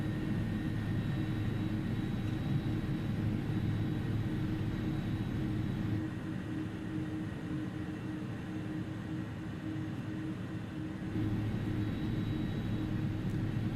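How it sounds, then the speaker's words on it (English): Steady drone of an Airbus A310's jet engines in a flight simulator game, heard from the passenger cabin as a continuous broad rumble with a faint whine, holding level throughout. "I love the engine sounds on this plane."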